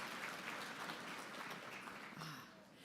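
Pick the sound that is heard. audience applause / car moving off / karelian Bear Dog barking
audience applause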